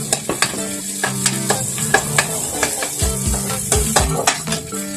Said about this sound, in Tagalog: Lagay na natin yung ating bawang at saka sibuyas.